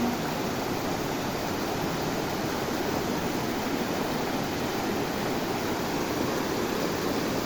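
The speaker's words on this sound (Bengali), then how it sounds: "এটা হচ্ছে আমাদের ঝর্ণা।" A waterfall in the Western Ghats roars as a steady, dense rush of falling water, loud and unbroken throughout, with no voices over it.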